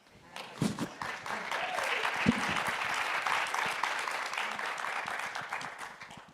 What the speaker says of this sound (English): I'll take it from the clapping that you guys enjoyed it